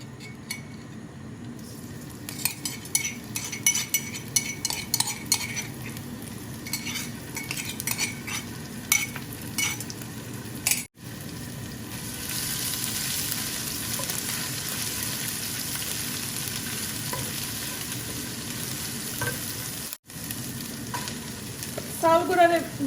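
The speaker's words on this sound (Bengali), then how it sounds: "এখন এটার মাঝে আমি চাউলগুলারে একটু বিরান করে নিব" Rice grains frying in oil in a pan, with ginger and half an onion, stirred with a metal utensil: a steady close sizzle under repeated scraping clinks. Two brief silent cuts break it, and the end grows busier.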